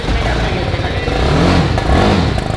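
A new motorcycle's engine runs with a steady, close, rough mid-pitched drone that swells slightly, while people talk over it.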